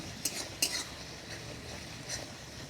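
A spoon stirring spice paste with sour yogurt in a pan for a prawn curry, giving a few quiet metallic clinks and scrapes against the pan over a soft steady background, no talking.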